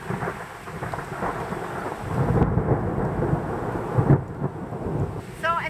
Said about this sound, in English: So at least the rain has stopped, but it's still thunder.